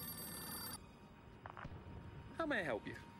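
A telephone rings in a Doctor Who episode with a steady, bright electronic tone for under a second. It stops, and brief voices and scattered sounds follow.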